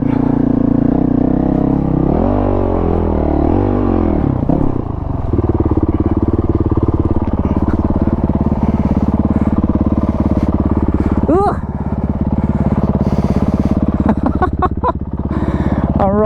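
A dual sport adventure motorcycle rides a trail in Shropshire, its engine droning steadily with rises and dips in revs and some clattering, loud and close throughout.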